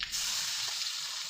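Cumin, mustard seeds and asafoetida sizzle in hot oil as an even, bright hiss that holds steady from start to finish, close up, with no voices over it.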